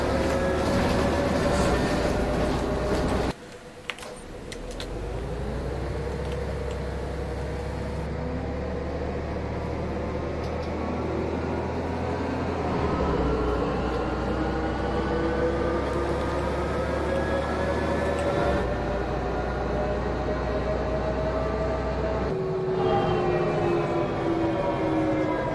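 Bus engine in the OMSI 2 bus simulator game, a steady drone whose pitch rises and falls as the simulated bus accelerates and shifts, with brief pauses and changes in tone, continuous and close, with no talking.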